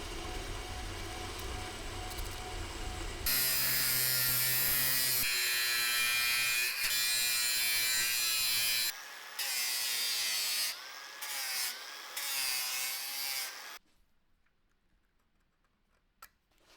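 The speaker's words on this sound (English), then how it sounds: "Gonna center drill and drill this one." A drill works a part for a homemade Honda Shadow chopper frame, a loud whirring machine tone that shifts pitch in sustained runs, stops and restarts several times, then falls nearly silent near the end.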